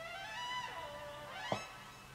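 Stock lead synth preset in FL Studio for a beat: a faint, sustained tone with gliding pitch over a couple of seconds and a short brighter accent near the end.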